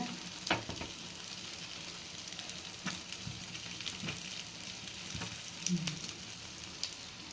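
Egg paniyaram fries in a pan, giving a steady close sizzle and crackle throughout, with occasional louder pops and a soft scrape of the pan.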